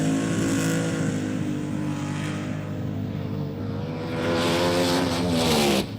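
A 1970s rear-engine Top Fuel dragster makes a loud, sustained engine roar throughout, with rising harmonic whine and a surge in intensity near the end as it revs, and no talk.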